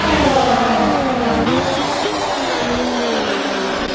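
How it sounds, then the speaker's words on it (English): A Formula 1 car at Monaco accelerating at full throttle, a loud, close, rising engine whine that climbs through the gears, with a commentator's voice over it. "Now he floors the throttle."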